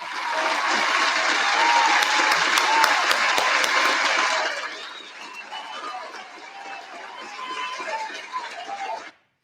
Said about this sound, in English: please a big round of applause and make some noise over there at home as well